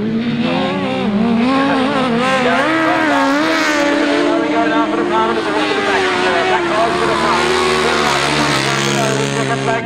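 Grasstrack racing motorbikes, sidecar-style pairings on a 600 meeting, scream past on the last lap with loud, wavering high-revving engines overlapping, while an announcer's voice runs underneath throughout.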